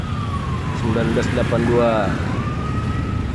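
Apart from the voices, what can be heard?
ambulance siren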